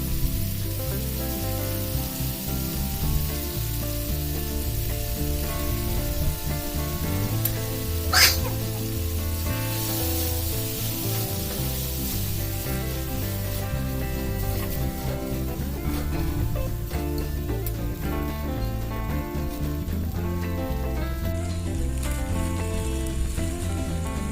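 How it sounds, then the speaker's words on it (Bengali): Boiled peas and potatoes being stirred in a frying pan for ghugni, a continuous sizzle and hiss with faint scraping, one brief sharp clatter partway through, steady and close with no talk. "কড়াই দেওয়া হয়ে গেলে এগুলো ভালো করে নেড়ে নেব"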